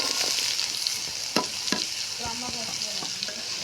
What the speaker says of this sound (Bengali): এখন আমি করলাটা ছাড়ে দেবো